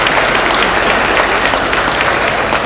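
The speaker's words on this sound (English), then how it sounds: "I would like to give a big round of applause to all the firefighters" Loud, dense applause from a crowd at the Hemet Fire Department's 110-year celebration barbecue, honoring the firefighters, a steady close roar of clapping throughout.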